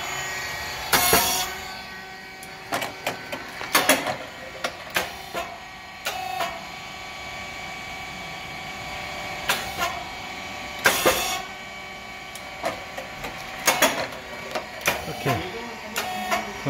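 A SYP3012 rice cake machine making thin crispy cakes runs with a steady mechanical hum. Sharp hissing puffs and clacks recur at irregular intervals, loud and close, with a faint voice now and then.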